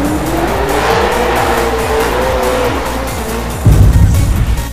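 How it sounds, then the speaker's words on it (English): A drift car slides through a turn at Formula Drift Long Beach in 2013, its engine roaring close by under a long, wavering tire squeal that swells louder near the end. "V8 powered 2011 champ Dai Yoshihara sliding into view"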